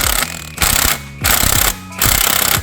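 A Hercules impact wrench hammers at a bolt on a G35 coupe during a VK56 engine swap, in four loud, close, rapid rattling bursts separated by brief pauses, with no talking.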